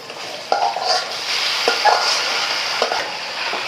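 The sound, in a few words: stirring cabbage with onion and garlic in a pan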